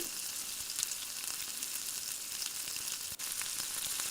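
Tomatoes frying with onion and garlic make a faint but steady hiss of sizzling oil with tiny crackles and no other sounds.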